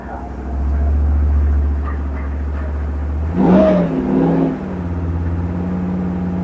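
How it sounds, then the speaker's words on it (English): An off-road vehicle in double low with the front locker engaged holds a steady low engine drone. It swells briefly as the revs rise, heard close under a person talking on a wet trail. "I'm just gonna let it get a little more RPM."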